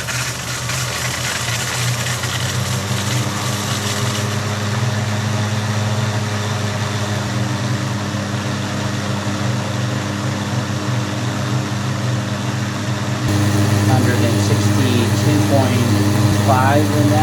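A micro hydro Pelton turbine with multiple spoon-style buckets runs continuously, giving a steady mechanical drone and whine with water rush. Around the midpoint the sound grows slightly louder and fuller.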